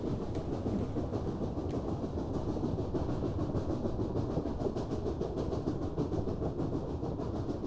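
A train rolls steadily through Transylvania, a continuous close rumble with a faint rhythmic clatter of wheels over the rails and no voices.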